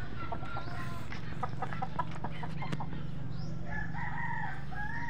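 Young gamefowl stags cluck in short repeated bursts over a low steady background hum, and a drawn-out crow-like call rises near the end.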